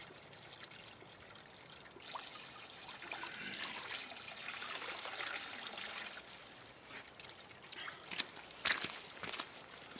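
A popular spring along a Sörmland hiking trail near Stockholm trickles and pours softly outdoors, a faint, continuous flow of running water with occasional small splashes.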